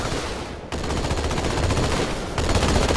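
Rapid automatic gunfire from a fast-firing weapon in Halo 2 Anniversary rattles on continuously and loudly, dense and unbroken for the whole stretch.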